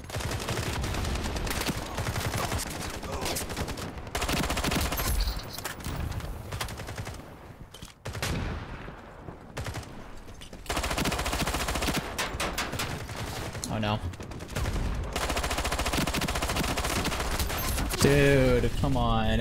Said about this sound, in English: That P90 recoil is so weird, man